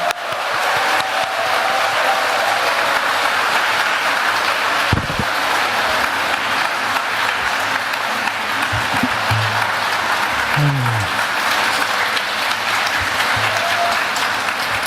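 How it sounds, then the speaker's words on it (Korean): Sustained applause from a large congregation at a Catholic diocesan retreat welcoming a bishop before his lecture, dense clapping that continues without a break, with faint low voices underneath. "주교님을 향해 큰 박수로 환영하시겠습니다"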